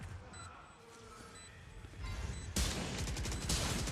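Rapid gunfire in Valorant sprays through a globe smoke during a Champions Seoul match, a burst of shots building loud and dense near the end under light background talk.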